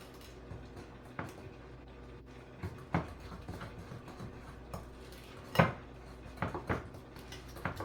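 A spoon stirs Million Dollar Cake batter by hand in a bowl, soft irregular knocks and clinks against the side, mostly quiet with a few sharper taps.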